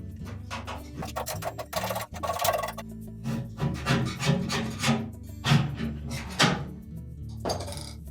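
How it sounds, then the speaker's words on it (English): A thin-bladed putty knife scrapes an old blower seal and its adhesive off a Whirlpool dryer, giving a series of close, rasping metal strokes in a steady, uneven rhythm with no talking. "we'll start with a thin blade putty knife. And we'll remove as much of the old seal and the adhesive as we can."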